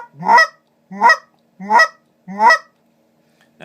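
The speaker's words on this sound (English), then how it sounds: "if you bring this hand around the front and blow it a little softer, it'll get quieter and lower" A Basin Calls BigShot goose honker call, played with the hand cupped in front, sounds four steady honks about two-thirds of a second apart, close and clear with no voices.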